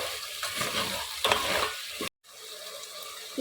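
Crab pieces fry for a curry, a loud close sizzle with stirring scrapes, briefly cut off by a silent gap before the frying hiss resumes.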